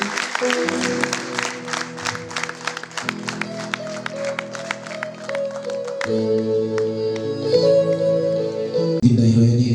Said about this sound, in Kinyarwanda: Itorero rikadukomeza amashyi